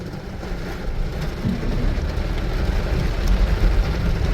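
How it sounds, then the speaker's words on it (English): Steady rain pours onto a flooded main street along Chaweng Beach Road on Koh Samui, Thailand, a continuous dense hiss with a low rumble underneath and no voices. "The rain has come back on the main street of Chaweng Beach Road"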